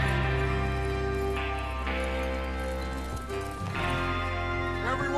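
Horses gallop in Red Dead Redemption 2 with a steady clip-clop of hooves over a continuous musical score, with an occasional voice speaking over the top.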